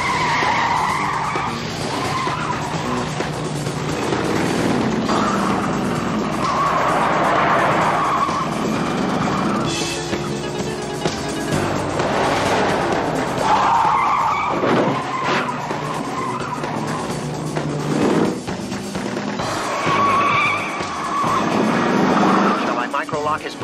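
A car chase with tires skidding and squealing, engines roaring in waves over a long stretch, with people talking tensely over the noise.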